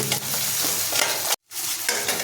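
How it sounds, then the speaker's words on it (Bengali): Onion, tomato, dried and green chillies, ginger and garlic dry-roast in an oil-free pan, a dense close sizzle with scraping stirs that stops for a brief moment, then resumes. "এবার এই শুকনো খোলায় দিয়ে বন্ধুরা আমি কিছুক্ষণ নেড়ে নেব"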